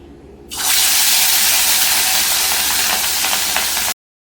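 Fish dropped into very hot mustard oil in a wok, a sudden loud, sustained hiss that bursts in after half a second, holds steady with faint crackles, then cuts off abruptly.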